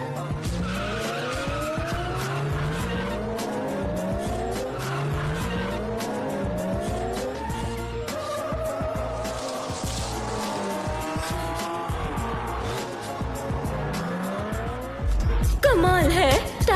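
A taxi racing in a car chase: engines rev through repeated rising gear shifts alongside screeching tires, loud and continuous, ending with a sudden louder burst of noise.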